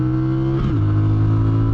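A 2025 CFMOTO cruiser motorcycle engine drones loudly and steadily at full throttle, the pitch dipping briefly during a gear change before settling into a sustained roar.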